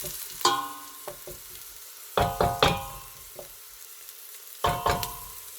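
Onions and garlic fry in a pan for keema, a steady soft sizzle broken by several sharp spoon or spatula knocks and stirring scrapes, close up.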